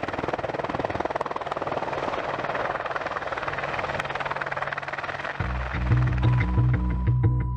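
AH-64D Apache Longbow attack helicopter, a continuous loud rotor and engine roar throughout, with deeper rhythmic rotor thumping and tonal whine growing louder in the final two seconds.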